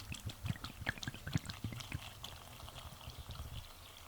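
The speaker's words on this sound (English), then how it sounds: "I'm going to pour the vodka over that" Vodka pours over mint leaves in a short, uneven burst, splashing and gurgling close by, then tapering off into quiet trickles.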